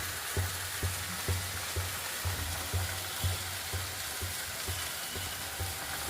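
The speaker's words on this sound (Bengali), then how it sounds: "ঝোলটা ফুটে গেছে, এবার আমি মাছগুলো দিয়ে দিলাম" A curry gravy of cumin, mustard and green chilli bubbles at a boil for hilsa fish, with a low steady hiss and soft pops recurring at a regular rhythm, quiet and close with no voices.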